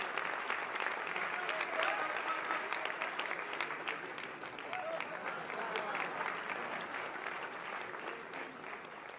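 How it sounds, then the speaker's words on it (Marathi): An audience at a grand book launch honouring a singer claps. The applause is sustained, dense and even, fading slightly toward the end, with a voice speaking over the clapping. "जोरदार टाळ्या वाजवून आपण या भावनेमध्ये सहभागी होऊया, टाळ्यांचा गजर जोरदार करूया"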